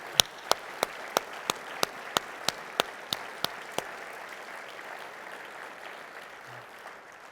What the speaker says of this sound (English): Ladies and gentlemen, please, again, give me a big round of applause for a very,